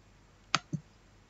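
Two quick computer mouse clicks, close and crisp, spaced about a fifth of a second apart against a quiet background.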